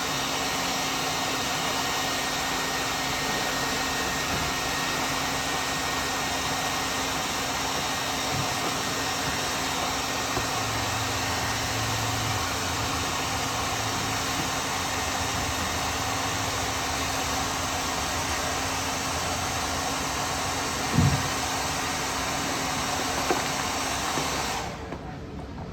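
Heat gun blowing hot air over a 2018 RMZ250 motocross number plate decal, a loud continuous whooshing roar with a faint low hum, steady for most of the clip before cutting off near the end.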